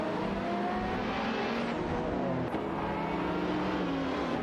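Koenigsegg and Bugatti race cars in an AI racing video game roar down a straight, a steady loud engine drone with rising revs and a brief passing whoosh midway.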